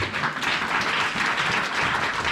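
A church congregation in Toulouse, France applauds during a sermon on fasting and prayer, a dense, steady wash of clapping that fills the short stretch at close, even loudness.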